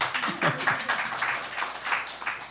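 An audience at a lecture on climate breaks into scattered applause, uneven bursts of clapping rising and falling in loose waves, with a brief voice heard near the start.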